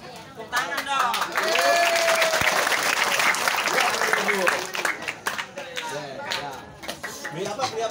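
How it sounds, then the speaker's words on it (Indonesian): Applause and cheering from an audience at a pesantren anniversary gathering, swelling quickly then tapering into scattered claps, with voices and chatter mixed throughout. "Tepuk tangan dong"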